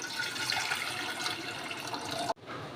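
A steady rushing stream of about four cups of water pours into a pan holding black urad dal, close and fairly loud, cutting off abruptly near the end.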